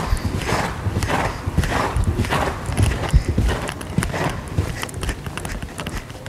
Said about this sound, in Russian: Рысь надо немного подсократить и после этого сделать новый подъем в галоп.